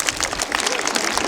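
An audience at a Shiv Jayanti quiz event breaks into a short, dense burst of clapping, close and fairly loud.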